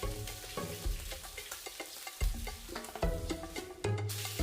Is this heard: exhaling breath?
no